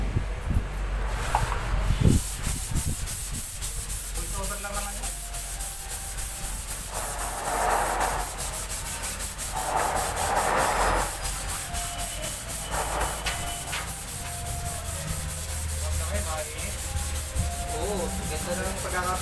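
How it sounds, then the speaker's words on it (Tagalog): A primed galvanized stainless tricycle body being hand-sanded with 400 grit sandpaper, a steady close rasping rub with rhythmic swells of strokes throughout, no talk. "pwede na natin siyang lihain uli ng 400 para mawala naman yung mga gaspang-gaspang niya"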